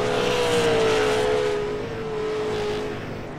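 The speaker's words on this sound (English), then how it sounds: "you can hear race cars on the track" Race cars run on the track at New Smyrna Speedway, their engines giving a loud, steady roar throughout with a long, gradually falling pitch as the cars pass by.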